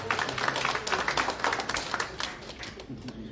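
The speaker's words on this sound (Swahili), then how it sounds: "wapi makofi" An audience at a public gathering with a senator and a bishop breaks into brisk, dense clapping, moderately distant, rising and fading over a few seconds.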